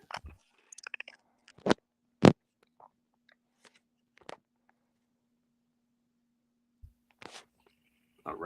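Ice crunches in short, sharp bursts, a handful of separate crisp cracks and crackles scattered across quiet gaps, close and fairly loud, with no talk.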